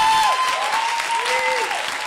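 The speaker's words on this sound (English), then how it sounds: "A round of applause for the two" Audience applause at a high school debate contest in Kumasi, Ghana, a loud, sustained crowd clapping with faint whistles rising through it, steady to the end.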